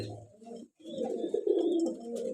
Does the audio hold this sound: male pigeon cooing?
yes